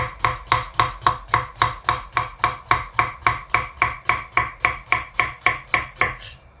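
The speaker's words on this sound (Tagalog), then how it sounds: "habang hinihiwa natin yung ampalaya" Bitter gourd (ampalaya) is chopped on a board in a fast, even rhythm of about eighteen crisp knife strikes, loud and close, with nothing else heard.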